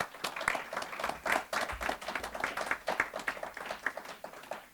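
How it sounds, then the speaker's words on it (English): A small audience at a talk on vaping regulation claps for several seconds, a fairly quiet, steady patter of applause with scattered individual claps. "How about a round of applause to welcome both of our speakers?"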